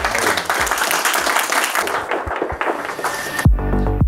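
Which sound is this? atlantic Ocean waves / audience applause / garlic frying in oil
audience applause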